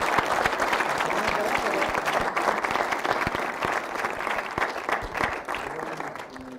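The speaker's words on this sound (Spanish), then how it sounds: "un aplauso grande a ti y a todo el equipo" Audience applause fills a talk or lecture hall, a dense steady wash of many hands clapping close by that holds for several seconds and thins slightly toward the end, with no voices on top.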